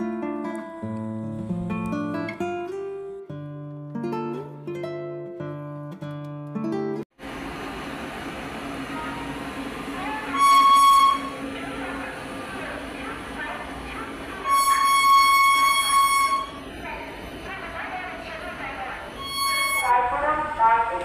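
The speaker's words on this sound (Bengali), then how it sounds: "নির্ধারিত সময়ে আমাদের ট্রেন ছেড়ে দিয়েছে।" Music opens briefly before an Asansol–Ranchi passenger train departs and runs, giving a steady rolling rumble with intermittent high metallic squeals rising over it.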